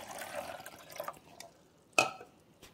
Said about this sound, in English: I'm going to add this now in the water tank with the descaling agent.